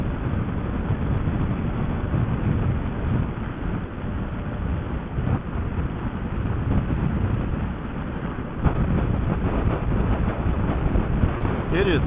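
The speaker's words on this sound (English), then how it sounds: "It's like crazy windy." Strong wind buffets the microphone while riding a motorbike on a hot day in Southern Colorado, a loud, constant roaring rush with heavy low rumble throughout, and faint speech now and then.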